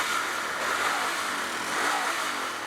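Royal Enfield Continental GT 650 motorcycle engine drones steadily at riding speed, a broad hum mixed with wind rush, fairly faint and without talk.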